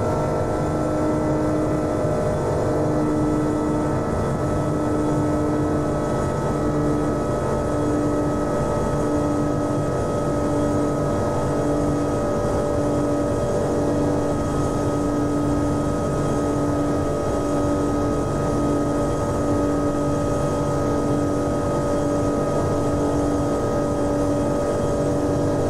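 Airbus A330 Trent 700 jet engines spooling down in the X-Plane 11 flight simulator, a steady loud drone with sustained tonal hums that holds throughout with no talk.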